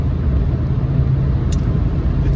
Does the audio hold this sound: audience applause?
no